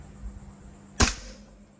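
A single sharp gunshot cracks out close and loud during a velocity measurement, a sudden burst with a quick decay over faint background noise.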